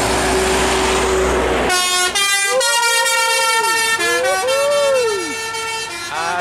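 A Mercedes-Benz 917 OF long-chassis bus on the road in West Sumatra plays a loud telolet horn, a rapid run of bright, warbling melodic toots with sliding tones, close and dominant over engine rumble.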